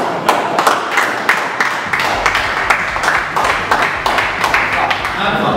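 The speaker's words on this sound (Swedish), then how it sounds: "Ändå en applåd till dig" Applause for a guest at an interview, a handful of people clapping crisply and steadily at close range, with voices talking faintly underneath.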